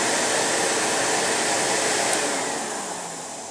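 A vintage vacuum cleaner runs with a loud, steady, airy motor roar close by, easing slightly toward the end.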